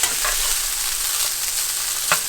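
Broccoli and white rice sizzling in a pan as a metal spatula stirs them, a loud steady fry with scraping strokes and a sharp scrape near the end.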